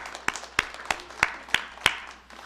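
Six slow, evenly spaced hand claps from a church congregation, sharp and moderately close, each one distinct rather than blended into a continuous round of applause.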